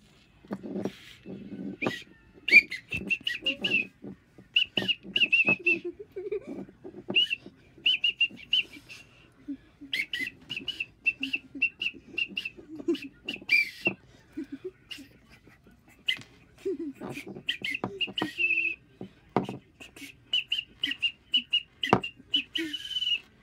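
Someone whistles in short, bright, repeated notes, broken by pauses, with soft low murmurs and a few clicks between the whistled phrases.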